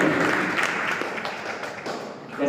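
Applause from an audience at a Rewa college event, welcoming a second-place prize winner; steady, dense clapping of moderate loudness runs throughout, with a slight swell at the end.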